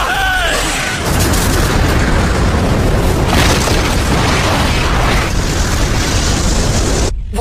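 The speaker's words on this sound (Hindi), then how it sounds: "एक धमाका है।" A cartoon explosion from the Naruto Shippuden anime, a loud, sustained rumbling boom that fills the whole clip and cuts off abruptly near the end.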